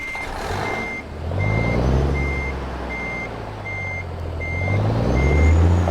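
A truck in American Truck Simulator backs up while parking, its reversing alarm beeping in an even, regular series over a low idling diesel rumble, with the engine revving up near the end.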